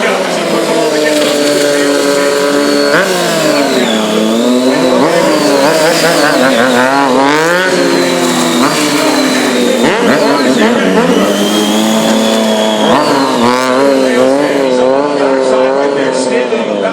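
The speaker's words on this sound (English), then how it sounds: "Standing on the backside of that motorcycle, feathering the throttle" A Triumph Street Triple motorcycle engine revs and warbles continuously through a stunt riding display, the throttle feathered up and down in rising and falling sweeps, loud and close, with a commentator's voice running over it.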